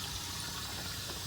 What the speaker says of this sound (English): I start seeing the water coming out of that pipe down below